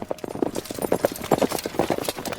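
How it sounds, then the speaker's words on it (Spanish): Horse hooves clip-clop in a steady, rhythmic trot throughout, as a close, clear sound effect in a told story. "se escucharon los cascos de un caballo"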